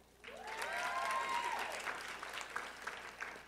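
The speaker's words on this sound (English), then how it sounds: "Please continue to give these phenomenal women another round of applause for their hard work and dedication" An audience claps for honored women at a university lecture event, a full round of applause swelling quickly then thinning out, with a faint voice or tone briefly over it.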